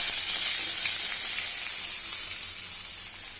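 Mustard seeds and onion sizzle in hot oil in a pan while making a ladies finger fry, a close, even hiss that fades slightly toward the end with no talking.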